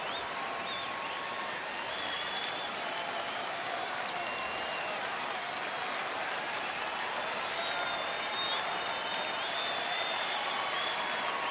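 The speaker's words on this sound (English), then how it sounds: "Crowd starting to get into it here in the 9th inning." Baseball stadium crowd at a Mariners versus Rangers game in the ninth inning, sold-out stands producing a steady, far-off roar of cheering and clapping with scattered whistles, constant throughout.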